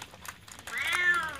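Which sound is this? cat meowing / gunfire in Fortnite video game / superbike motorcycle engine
cat meowing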